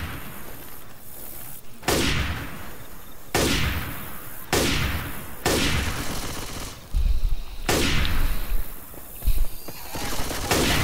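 Sniper rifle fire in the zombie shooter Left 4 Dead 2 at a dark carnival: five loud, sharp cracks spaced about every one and a half seconds, each trailing into a long echoing decay, with heavy game noise between shots.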